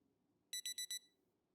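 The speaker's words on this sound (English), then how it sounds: "Turn that alarm off straight away." An alarm clock rings in the survival video game Project Zomboid: four short, evenly spaced electronic ringing bursts, clear and fairly loud over a quiet low hum, with no talking.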